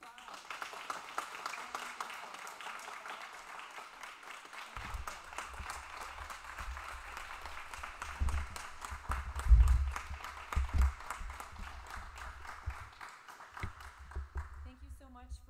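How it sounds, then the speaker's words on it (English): Audience clapping after a high school winter piano recital, a steady patter of many hands at moderate volume, with low rumbling handling noise and some speech mixed in partway through. "Let's give them another round of applause."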